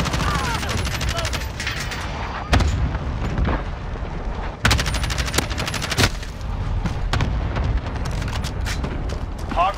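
Dense, continuous automatic and single-shot gunfire in Call of Duty Modern Warfare (2019), hardpoint match at Khandor Hideout, with loud sharp bursts near 2.5, 4.6 and 6 seconds over a busy battle bed and occasional voices.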